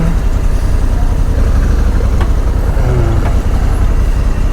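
Heavy street traffic in a Georgian town, a steady loud rumble of idling and crawling car, bus and truck engines, with faint passing tones over the continuous low drone and no speech.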